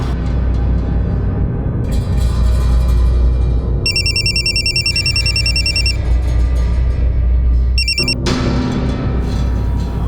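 A telephone rings in repeated electronic bursts over a loud, steady backdrop of music or ambience in a crime drama scene, with a pause between ring bursts and no talk.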